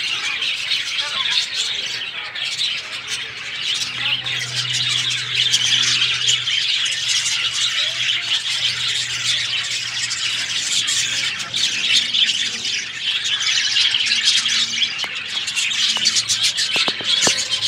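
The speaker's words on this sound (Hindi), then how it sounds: "ये कौन सी पक्षी है" A bird at Gandhi Prani Park zoo in Gwalior, Madhya Pradesh gives repeated harsh squawks amid a busy crowd, with people talking nearby throughout.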